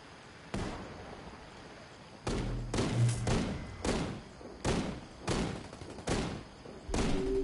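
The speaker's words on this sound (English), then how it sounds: "Jeez, that gun is so loud." Heavy, booming gunshots from a Ghost War video game gun fire in a rapid irregular series, loud and close, each blast a sharp thump with a short tail.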